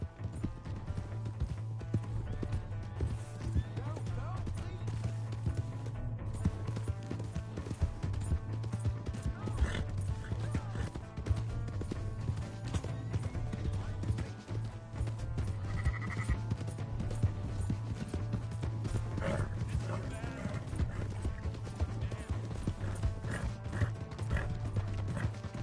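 Horse hooves clip-clop steadily with a brief neigh in the Red Dead Redemption video game, set against a constant droning game soundtrack and ambient noise throughout.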